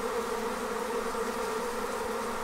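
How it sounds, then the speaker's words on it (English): Honey bees swarming out of an observation hive entrance, a dense continuous buzzing drone heard close up, steady and even in loudness with no voices. "I'll get you in close so you can hear the buzzing of the bees as they come and go."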